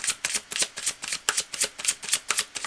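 Tarot cards being shuffled by hand, a steady run of crisp riffling bursts about four per second, close and clear with no talk.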